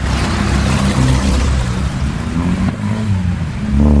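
A 1971 Plymouth GTX 440+6 muscle car engine revs loudly and close, a deep rumble that swells and dips before surging again at the end.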